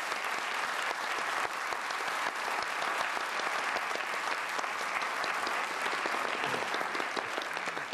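A studio audience on a 1995 Belgian television panel show gives sustained, even applause to welcome a new panel member, a steady unbroken wash of many hands clapping at close range with no voices on top.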